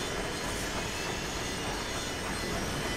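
Train in the video game Let It Die, a steady dense rumble of rolling wagons with rattling wheels and faint squeal, continuous and fairly loud throughout with no talking.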